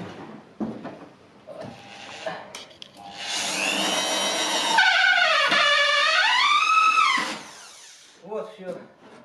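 A power screwdriver drives a self-tapping screw into wooden wall boards, its motor whining loudly for several seconds as the pitch sags and recovers, with someone speaking briefly before and after.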